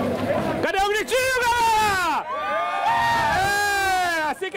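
A crowd of spectators at the first stage of a mountain bike race cheers, whoops and shouts loudly and continuously, close by, with overlapping excited voices throughout.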